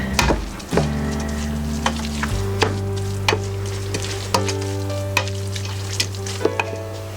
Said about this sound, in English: I'm going to start to brown my meat and get this vegetable soup going